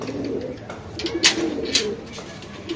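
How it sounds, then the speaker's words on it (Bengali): Racing pigeons coo softly at close range, low repeated throaty calls over background noise, with faint scattered sounds of other birds. "দেখছেন কবুতরগুলা কত সুন্দর"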